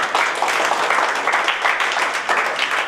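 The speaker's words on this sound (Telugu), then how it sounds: "పిల్లలు గట్టిగా చప్పట్లతో అభినందించాలి" Schoolchildren applaud loudly at an anniversary awards event in a jewellery showroom, a dense, continuous round of clapping from many hands with slight swells, lasting throughout.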